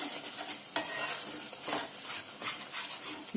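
A spoon stirring ginger chicken gravy with tomato sauce in a hot pan, a continuous scraping and sloshing over a steady sizzle, close by, with no voices.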